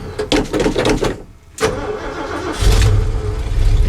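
An old carbureted truck with no choke and a blown carburetor power valve cold-starts in sub-zero weather: a strained crank, a brief pause, then the engine catches and roars to a loud, rough, uneven idle up close.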